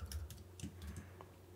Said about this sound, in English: And I'm going to type in wiggle